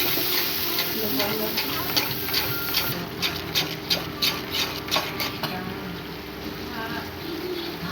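Spice paste sizzling in a hot pan while being stirred, with rhythmic scraping strokes and a voice talking faintly in the background.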